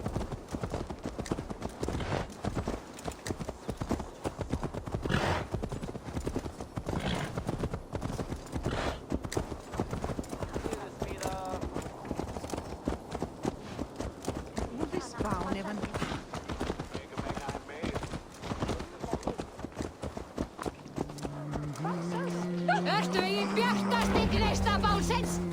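Horse hooves clip-clop steadily in Assassin's Creed Valhalla, a dense rapid clatter running through most of the stretch beneath game speech and music, which swells toward the end.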